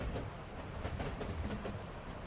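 An RO-scale model train, a Union Pacific Challenger or 844 locomotive, runs along its track with a soft steady rumble and faint rhythmic clicking, moderately close.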